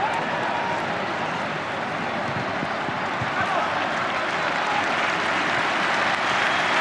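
A large crowd at an Argentina vs Paraguay football match at the 2004 Olympics roars and cheers steadily in the distance, a dense continuous wash of noise under a commentator's voice.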